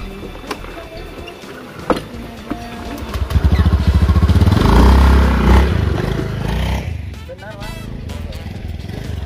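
An old antique motorcycle engine rumbles and revs up loudly, then settles, with people talking over it and some clatter.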